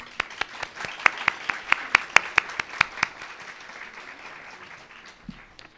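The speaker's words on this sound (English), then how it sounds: "Please join in applauding our college leaders." Luncheon audience applauding college leaders: a burst of sharp, fairly close claps in a quick irregular rhythm that thins out and fades after about three seconds, leaving a quiet room.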